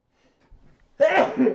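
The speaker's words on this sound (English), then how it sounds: "Sorry, I had to sneeze and I couldn't mute either of the mics." A single abrupt sneeze bursts out loudly near the microphone after a brief quiet intake of breath.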